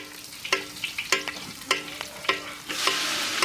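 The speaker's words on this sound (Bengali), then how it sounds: "পেঁয়াজটা আমাদের সুন্দর ভাজা হয়ে গেছে" Onions frying in a pan with bay leaf and whole cumin, scraped by a spatula in a string of crisp, evenly spaced strokes over a soft sizzle that grows louder toward the end.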